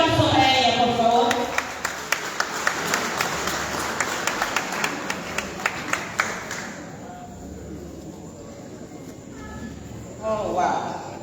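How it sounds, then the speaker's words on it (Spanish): Guests applaud at a 65th birthday party, a dense wash of clapping lasting about seven seconds with a few sharp individual claps on top, fading out, followed by quiet and then a brief voice near the end. "Un aplauso para ella, por favor."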